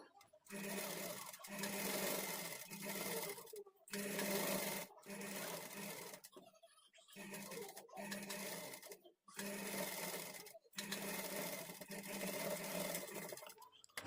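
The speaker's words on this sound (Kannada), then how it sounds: "ಇದ್ರ ಮೇಲೆ ನಾವು ಡಬಲ್ ಸ್ಟಿಚ್ ಹಾಕ್ಕೊಳ್ಬೇಕು" Sewing machine double-stitching the sleeves of an umbrella, running in several loud, steady whirring bursts of one to three seconds separated by brief pauses, close and continuous.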